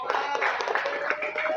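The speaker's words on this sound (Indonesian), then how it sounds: "Tepuk tangan buat lebih meriah." An audience claps together at a community empowerment event, with dense, close applause holding steady throughout the brief moment while a voice speaks over it.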